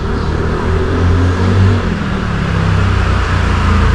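Scooters and motor traffic rumble along a Taipei road, a continuous loud engine drone that swells and fades as vehicles pass close by, with no talking.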